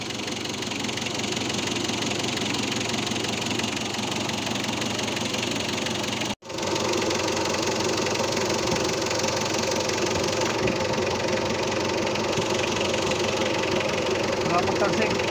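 A 4D56 diesel engine idles steadily just after an oil change, a continuous close rumble with a fine rapid knock, broken by one brief dropout midway; voices talk faintly over it.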